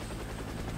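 Helicopter in a free-to-play shooter game, a dense continuous rotor roar filling the short moment, loud and close, with no talking.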